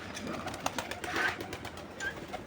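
Pigeons coo in soft, repeated throaty calls close by, with a few brief fluttering or shuffling sounds among them and no talking.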